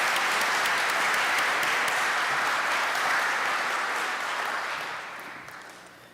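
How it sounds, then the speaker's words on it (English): An audience at an alumni day and hall of fame awards ceremony claps in dense, sustained applause filling the room, then tapers off over the last second or two. "Please give this team another round of applause."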